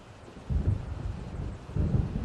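Distant thunder rumbles low twice as a storm approaches in the video game Alan Wake, deep soft rolls over a quiet windy background.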